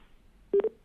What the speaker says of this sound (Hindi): आलोक जी का फोन डिस्कनेक्ट हो गया